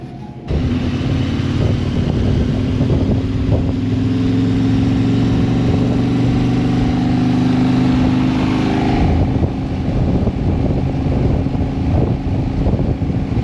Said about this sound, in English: This is the worst traffic, almost home.